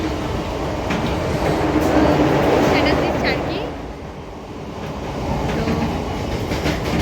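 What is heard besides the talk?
train ride, inside a train carriage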